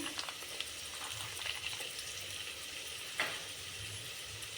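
Fresh green peas fry for a pulao in a pan, giving a steady soft sizzle with occasional light stirring scrapes and one brief louder clatter near the end.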